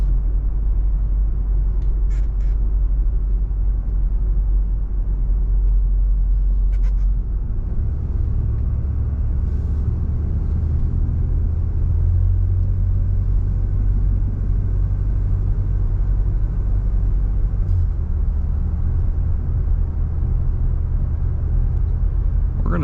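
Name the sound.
1975 Oldsmobile Cutlass S engine while driving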